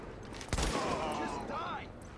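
Gunfire in Tom Clancy's The Division, a sharp shot burst followed by echoing fire and game effects, with a voice speaking over it.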